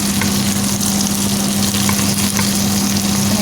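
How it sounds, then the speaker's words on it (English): Prawns fry in a hot pan for pad thai, giving a steady, close, dense sizzle with a constant low hum underneath and no talking. "Get these nice and cooked down so I can get as much prawn juice out of this as possible"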